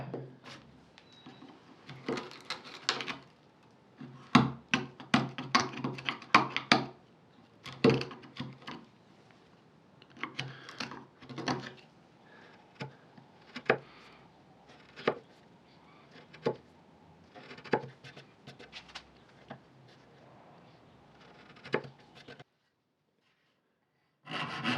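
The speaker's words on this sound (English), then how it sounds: "Next is to chop out the mortises." Mortises are chopped out of wood with hand tools while making a bow saw, giving irregular close scraping, rubbing and sharp knocks in bursts, with short pauses between strokes.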